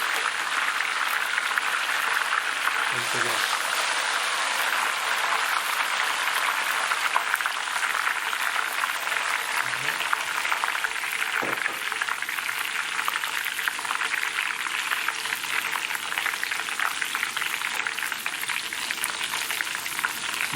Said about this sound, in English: See the bubbling sound.